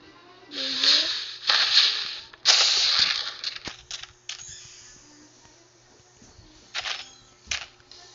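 New Year fireworks heard as a run of bursty cracks and hissing pops, several loud bangs early then sparser, quieter crackles trailing off.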